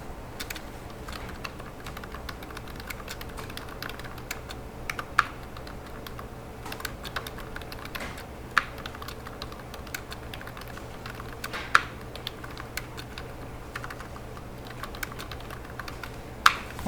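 Someone types text into CAD drawing software on a computer keyboard: sparse, quiet clicking keystrokes with a few sharper, louder key taps, and no talking.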